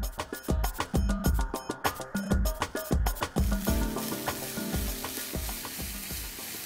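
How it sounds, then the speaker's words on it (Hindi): Bean sprouts hiss and crackle in hot oil in a pan, with a spatula clattering in a rapid, regular rhythm of scrapes and taps. Close and fairly quiet, with no voices. "तेल गर्म हो गया तो सबसे पहले हम ये बीन स्प्राउट्स पैन में डाल रहे हैं"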